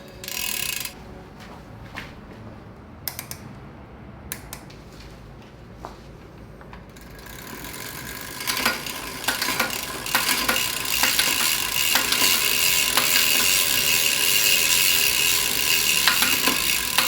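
Metal parts click, ratchet and rattle as the chain tensioner and chain stopper of a Brompton bike with a 7-speed hub are fitted, first with sparse, sharp ticks and then with a denser, louder grinding clatter.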